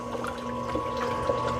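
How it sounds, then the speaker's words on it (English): Hot water poured slowly into a Ninja SLUSHi FS301 professional frozen drink maker, a steady close pouring and gurgling with a faint mechanical hum underneath, continuous and without talk. "We want to dump hot water in, and we want to dump it all the way up to the 64 fluid ounces."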